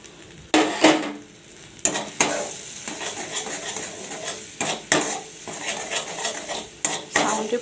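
Ash gourd peel paste with added sugar is stir-fried in a pan, a metal spatula scraping and clattering in repeated bursts over a soft, steady sizzle, close and fairly loud with no talking.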